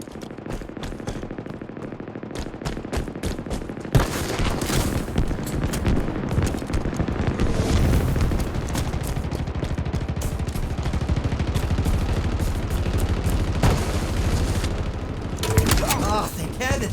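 Continuous gunfire in a Halo Infinite Big Team Battle match, dense rapid bursts and explosions filling the whole stretch, loud and busy, with game sounds layered throughout.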